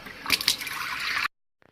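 Water splashes and trickles as a cleaning rag or piece of kitchen roll is dipped to wet it for cleaning a wood-burning stove's glass, a brief close burst that stops abruptly into silence.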